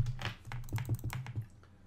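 Short burst of close keystrokes on a computer keyboard, about a dozen light taps in an uneven rhythm, with no one speaking.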